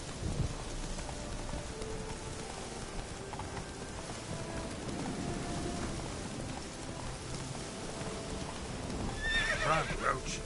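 Roach, a horse in The Witcher 3, gallops through a rainstorm with steady clip-clopping hooves, a whinny near the end, and a dense rain wash with distant thunder underneath.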